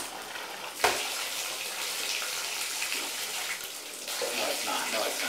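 A tap runs into a tub while a cat is being bathed, a steady hiss of running water after a sharp splash near the start, fairly faint and continuous.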